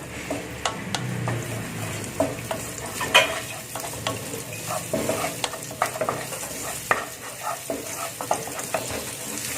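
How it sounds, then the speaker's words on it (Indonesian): Tempe and onions sizzle in a few spoonfuls of frying oil while a utensil stirs and scrapes the pan in irregular strokes, close and steady with no talking. "pertama yang kita lakukan adalah kita menumis dulu tempe dan bawang-bawangnya ya"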